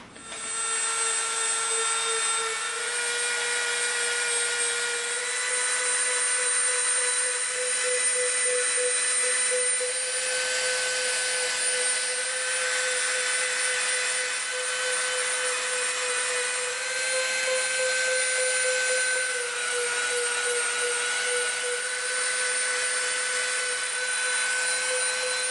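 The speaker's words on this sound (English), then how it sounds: "We're going to bevel all the way around here with the Dremel" A Dremel rotary tool whines at a high, steady pitch while bevelling the edge of EVA foam for a prop pistol, running continuously up close with slight shifts in load and no talking.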